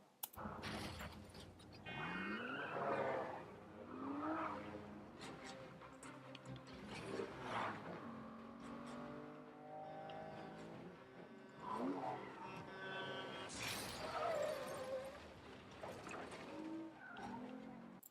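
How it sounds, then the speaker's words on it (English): A film scene of a car crashing into a huge lorry, with loud tire squeals, skidding and revving engines in repeated surges across the stretch, sounding busy and dramatic. "There we saw an antagonist car crashing into a huge lorry"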